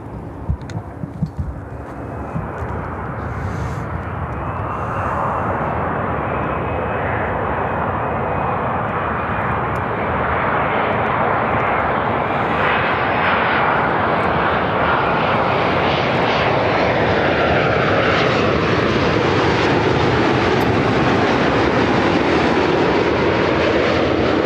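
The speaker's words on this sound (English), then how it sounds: "We have this next heavy arrival." A heavy airliner arriving at Chicago O'Hare roars in a loud, steady jet rumble that swells and holds as it passes close, with no talk over it.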